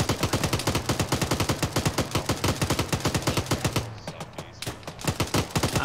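Rapid sustained gunfire in the Arma 3 video game, a loud, close, steady automatic burst of regular shots that breaks off briefly near the end before a few more shots, with no talk.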